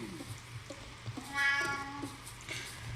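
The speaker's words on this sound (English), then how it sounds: "My Siamese cat is joining in with the" A Siamese cat meows once, clear and fairly close, against quiet background noise from a game of Planet Coaster, with no speech over it.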